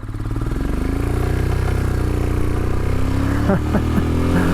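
Royal Enfield Himalayan motorcycle riding through falling snow, its single-cylinder engine running steadily and loud throughout, with throttle rising and a brief rev toward the end.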